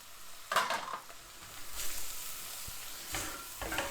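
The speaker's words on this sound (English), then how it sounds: "Give that a stir." A spoon stirs pumpkin soup with parmesan in a pot, giving scraping, sloshing strokes in a few bursts, close and moderately loud, with no talking.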